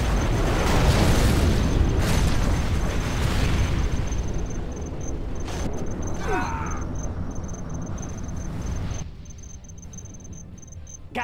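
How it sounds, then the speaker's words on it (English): Nuclear missile launch and detonation in Command & Conquer: Generals, a long heavy roaring explosion rumble that slowly fades, with a thin steady high tone and a short whistling sweep over it. "Warning, a nuclear missile has been launched."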